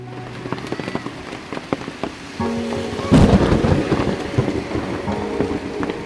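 Monsoon thunderstorm with hail over Nainital's Naini Lake: a loud thunder crack breaks in midway, followed by dense, steady rain and hail pattering close by, with scattered drops before it.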